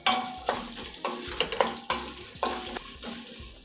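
Oil sizzles steadily as mustard seeds and cumin fry, with crackling pops and sharp bursts recurring every half second or so, close and fairly loud.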